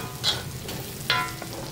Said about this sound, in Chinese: 继续炒，这个时候火可以小一点。